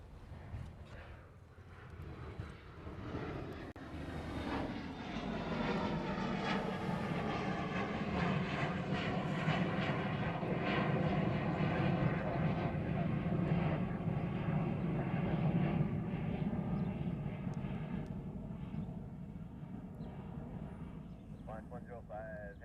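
Airliner passing at Honolulu airport, a jet roar that swells from faint to loud and then slowly fades, with a voice speaking over it at times.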